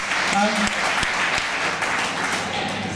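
Steady applause from a crowd fills the whole stretch, dense and continuous, with faint talk mixed in underneath.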